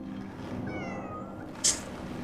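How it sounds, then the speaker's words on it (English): A cat in a video game meows with a drawn-out, whining call over a steady low game hum, followed by a brief sharp click; no talk over it. "Nope, that's a cat."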